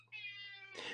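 A pet cat gives a single clear meow, rising and holding a tonal cry before breaking off into a brief breathy end, heard close and quiet with no talk.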